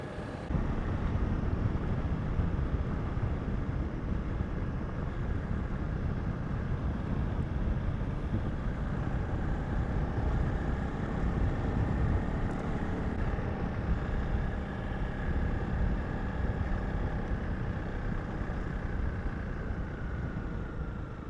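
A motorcycle cruising on the R354 tar road toward Sutherland in South Africa's Karoo, a steady loud engine drone with heavy wind rush over the whole ride and a slowly rising pitch, no talk.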